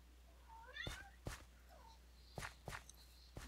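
A cat meows several times, short rising and falling cries at moderate distance, interleaved with sharp thumping knocks and bumps close by.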